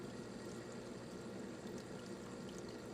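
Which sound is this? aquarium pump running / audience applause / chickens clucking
aquarium pump running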